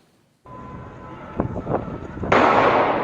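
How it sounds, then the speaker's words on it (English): Gunfire on a Paris street at night in news footage: after a low rumble of street ambience, several sharp cracks ring out at a distance, then a louder sustained noisy burst near the end. "Chaos on the streets of Paris tonight, gunfire ringing out"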